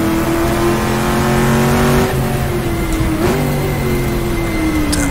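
A 1966 sports racing car in the GTR2 racing game on the Targa Florio road course roars loudly and steadily in third gear, its engine note rising and dipping through a kink and under braking.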